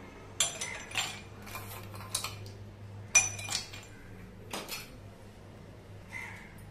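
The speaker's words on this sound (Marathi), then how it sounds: "बर्फाचे तुकडे घालूया," Ice cubes drop one after another into a glass for a jaggery-water jaljeera drink, making sharp bright clinks and rattles in uneven bursts, close and clear with no talking.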